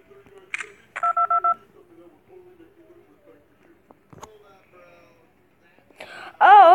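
Telephone keypad tones from the Five Nights at Candy's 2 video game: a few short dial beeps, a run of four quick tones, then a louder warbling ring at the end, with soft clicks between.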